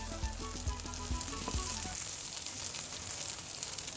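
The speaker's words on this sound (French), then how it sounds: "quand vous retournez vos beignets, il faut y rajouter encore un tout petit peu d'huile pour que la seconde partie puisse cuire" Beignets fry in oil with a steady, close crackling sizzle, thickened by low sputtering pops through the first two seconds before settling into an even hiss.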